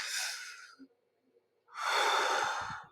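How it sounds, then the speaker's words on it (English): A person takes a long, deep breath: a soft airy exhale first, a brief pause, then a big, loud inhale through the nose and mouth, close and clear. "take a big, deep breath in"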